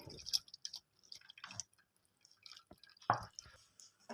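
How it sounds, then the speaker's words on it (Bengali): Cold water rinses fresh chhena cheese in small splashes and drips, soft and intermittent with a few sharper splatters, close by and quiet. "আমি ঠান্ডা জল দিয়ে একটু ছানাটা ধুয়ে নেব।"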